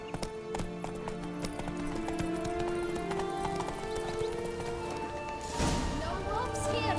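Horse galloping in The Witcher 3: Blood and Wine, a rapid, steady clip-clop of hooves with occasional snorts and clattering effects, a louder crash-like burst near the end, all moderately quiet in the game mix.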